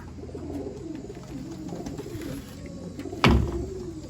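Young pigeons on a loft landing board coo in soft, low, rolling calls that continue steadily up close, broken near the end by a sudden sharp thump.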